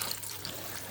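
Water pours into a pot for Estonian bread soup, a brief soft trickling splash heard close and alone.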